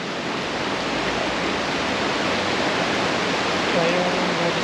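A steady broadband rush of flowing water current, continuous and fairly loud throughout, with faint voices in the background.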